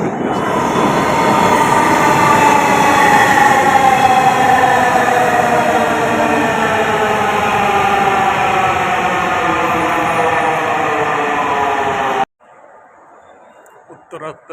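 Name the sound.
metro train arriving at Uttara North station, Dhaka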